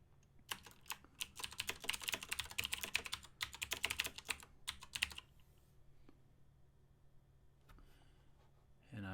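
Fast typing on a computer keyboard while writing HTML code, with dense bursts of key clicks for about five seconds. A few scattered keystrokes follow, and a voice begins at the very end.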